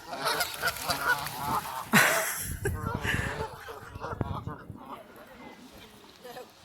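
A large flock of geese honks continuously in a dense, overlapping chorus, with voices talking over the noise.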